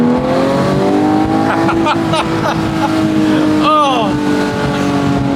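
A 2018 Porsche 911 GT3 Touring's engine revs loudly and close, rising and falling with a sharp auto-blip flare near the end, and a man briefly exclaims over it.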